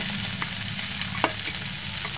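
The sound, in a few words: pabda fish frying in a pan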